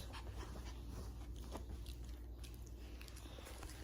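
A dog on a couch pants heavily and steadily close by, a soft breathy rhythm over a low background hum with a few faint mouth sounds and no speech.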